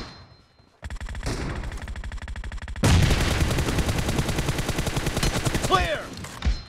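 Rapid automatic gunfire in PUBG Mobile team deathmatch, dense bursts of shots building from about a second in and turning loud and continuous past the three-second mark, with a few sharper cracks near the end.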